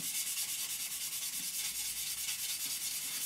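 A sanding stick rubs back and forth over a scale model's surface in steady, close, raspy strokes, with no voices.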